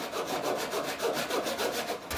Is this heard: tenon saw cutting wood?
yes